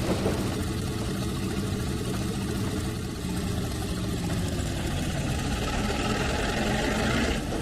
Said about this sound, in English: The engine still sounds fine.